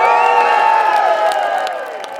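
A large crowd at a Scottish independence rally in George Square, Glasgow, cheers and shouts loudly and continuously, with whoops rising above a sustained roar that fades slightly toward the end.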